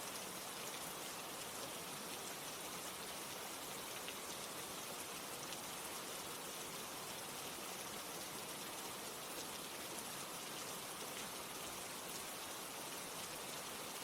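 Steady, dense rain falls without a break, a full even hiss of countless drops hitting surfaces, close and constant throughout.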